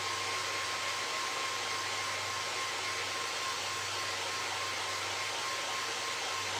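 A hair dryer blows steadily to dry paint on a handmade vintage-style craft snowman, a continuous close, even whoosh with a faint motor hum that never lets up.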